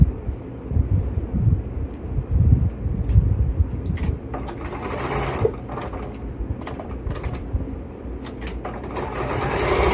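A sewing machine stitches a strip of fabric for a chicken quilt block, its motor whirring steadily and close, with faint clicks and handling noises rising over the hum partway through.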